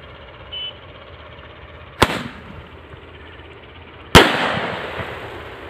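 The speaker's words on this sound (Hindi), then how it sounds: "दोस्तों देख सकते हैं काफ़ी अच्छा नज़ारा था इस स्काई शॉट का।" Sky shot firecracker bursting outdoors during firecracker testing: two sharp, loud bangs about two seconds apart, the second a brighter crack with a longer crackling tail, over a quiet background.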